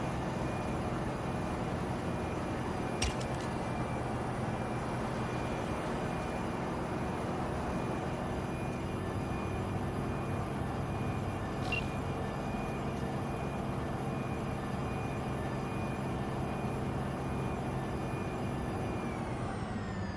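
A weak-sounding car in Cyberpunk 2077 drives with a steady, droning engine whine that holds nearly unchanged for twenty seconds, a constant close hum with faint high tones and no talking.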